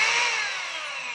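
A DeWalt D25032 rotary hammer runs on a test with a brief, close motor whine that drops slowly in pitch as it spins down over about a second.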